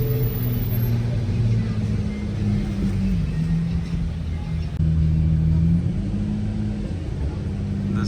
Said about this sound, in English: This guy sounds like his car does not like being in traffic right now